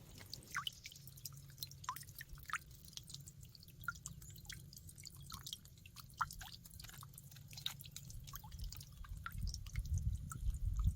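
Water drips down rain chains in a greenhouse, a steady scatter of small, irregular plinks and patters over a low background rumble that swells toward the end.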